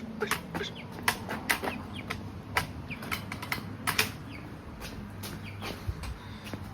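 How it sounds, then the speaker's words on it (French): A hen flaps its wings in sharp repeated bursts and gives soft clucks, close and irregular, the feathery beats scattered throughout. "La poule. La poule."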